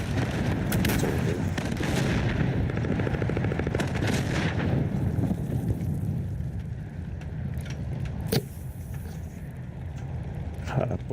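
Shotgun blasts and other gunfire crackle over a constant dense game-audio roar during an online multiplayer match, with a few sharp distinct shots standing out.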